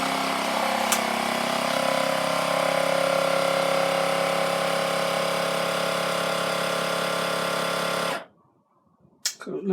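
An Aicok vacuum sealer pumps air from a bag of meat with a loud, steady motor drone that stops abruptly near the end, followed by brief quiet clicks.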